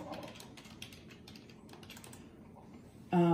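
Typing on a computer keyboard while logging in, a steady patter of light key clicks for about three seconds, alone and close, ending in a brief loud electronic tone.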